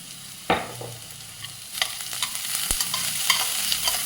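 Onions frying in a pan for a prawn roast, with a sharp scrape of stirring at the start, a steady hiss of sizzling and scattered clinks and spatters throughout, close and alone.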